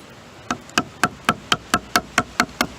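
A chisel is tapped into rattan for sword making, about eleven sharp, evenly spaced knocks in a quick steady rhythm, close and fairly crisp over a quiet background.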